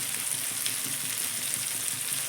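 Soft honey bhola fish frying in oil, a continuous close sizzle with light bubbling crackle throughout, no voices.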